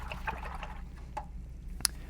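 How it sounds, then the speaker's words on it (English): A paintbrush is swished in a cup of water, making faint liquid sloshes and drips with a brief sharp clink near the end, quiet and close. "make sure this brush finds its way into your water cup"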